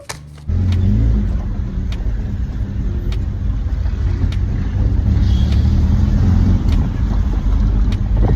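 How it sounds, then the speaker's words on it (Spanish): Steady low engine rumble from a car carrying a passenger, starting abruptly after a brief pause and holding a constant drone throughout, with no one speaking. "Voy a llamar un carro."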